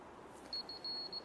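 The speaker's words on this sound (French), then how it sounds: "ma télécommande fait des petits bip bip simplement pour me dire OK" A laser tool's remote control in detection mode emits a series of small, quiet, high-pitched beeps in quick succession over a faint background hiss.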